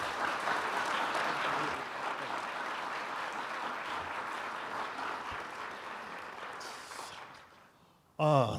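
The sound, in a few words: audience applause welcoming the lecturer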